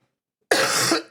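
One harsh, close cough from a person with an upper respiratory illness, preceded by silence and followed by a short catch of breath.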